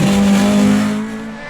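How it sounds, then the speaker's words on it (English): A Vauxhall Corsa race car driven flat out during a circuit race at Nutts Corner, its engine note loud, close and sustained at a steady pitch before easing slightly as it passes. "The Frizzell Corsa is giving chase at 11 tenths"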